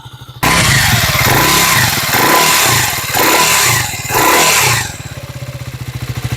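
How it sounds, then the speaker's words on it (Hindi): A Triumph Tracker 400 motorcycle sits at idle, then its exhaust is revved hard several times in loud, close, throaty bursts, falling back between blips and settling into a lumpy idle pulse, with no talk. "तो ये है exhaust note of the tracker 400।"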